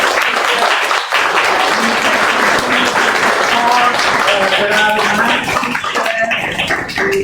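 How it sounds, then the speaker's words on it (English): Steady applause from an audience at an exhibition opening and panel discussion, filling the whole stretch at an even volume, with voices talking over the clapping toward the end. "Applause for all our"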